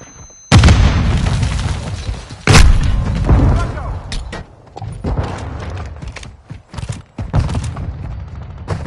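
Grenade explosions in a military shooter game: a sudden loud boom with rumbling tail, a second heavy blast moments later, then scattered thumps, clatter and distant bangs continuing throughout.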